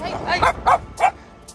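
A dog barks in several sharp, loud yaps close by while chasing a bicycle rider on a rural road by rice fields in Pangasinan, Philippines.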